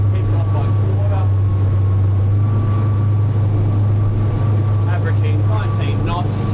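A Tasman 80 boat's diesel shaft-drive engine holds a steady low drone while running down big swells in Bass Strait, Australia, with wind and water rushing around it and someone talking over the top.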